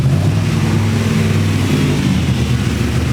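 A GM LS3 V8 swapped into a BMW E46 runs just after its first start-up, a loud, close, steady low rumble with a choppy lumpy idle throughout.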